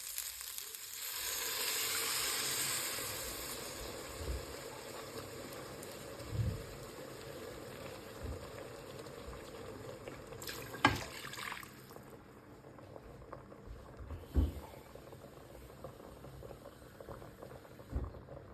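Lentil soup with rice and bulgur simmers on low heat, giving a soft continuous bubbling and gentle sizzle, with a few louder knocks and clicks scattered through it and no talk.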